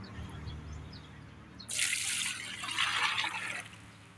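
Water poured from a dipper into a fertilizer mixture for bougainvillea, a bright splashing pour starting partway through and running about two seconds with a second surge, close and fairly loud over low background hum.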